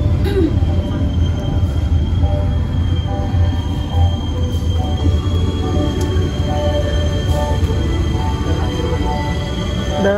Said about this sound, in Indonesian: ini untuk perjalanan kereta api Sri Tanjung tiba di stasiun Purwosari